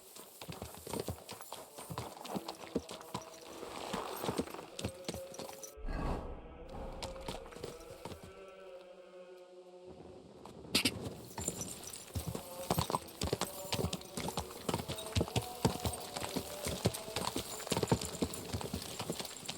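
Horse hooves clip-clop steadily in the medieval video game Kingdom Come: Deliverance II, a close, continuous rhythmic patter that briefly drops out midway before resuming at a quicker pace.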